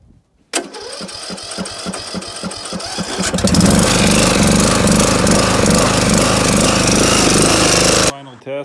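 An old lawn mower powered through a Rugged Geek RG1000 power supply cranks with rapid rhythmic chugs, then catches and runs loud and steady before cutting off abruptly near the end.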